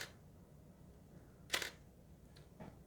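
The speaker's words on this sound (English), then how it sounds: "You can see how the lens focuses there." The lens on a Canon EOS 630 film SLR set to aperture priority autofocuses with a brief whirring buzz. A fainter second motor burst follows against a quiet room hiss.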